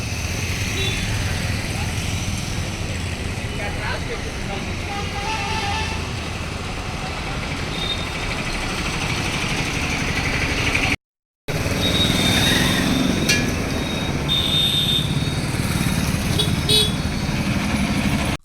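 Dense road traffic roars near a ramp where a heavy vehicle is stuck, with engines, motorcycles and repeated horn toots sounding loudly and continuously under a steady din, briefly cut off midway.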